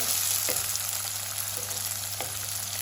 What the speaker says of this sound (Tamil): இது வதங்குறது பொரிகிறது வெங்காயம் மிளகாய் போட்டு